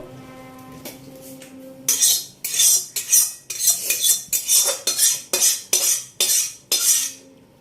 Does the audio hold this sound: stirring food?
yes